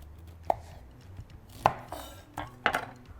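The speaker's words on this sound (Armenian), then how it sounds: "Բանանը գեղվելու ենք եւ կտրատելու ենք։" A knife cuts through a peeled banana on a board in three or four sharp, separate chops spaced about a second apart, close and clear with no talk.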